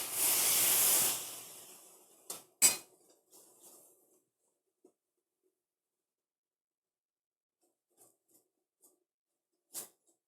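Pierogi and sauerkraut in a well-heated pan give a loud, close hissing sizzle for about a second, which quickly dies away to near silence broken by a few faint clinks.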